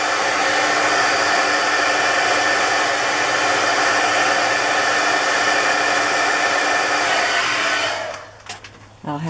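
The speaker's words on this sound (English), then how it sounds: "I don't usually dry Mod Podge with a heat gun" A heat gun blows a steady, loud roaring whoosh as it dries Mod Podge on a craft project, running continuously before cutting off near the end, followed by a few faint handling knocks.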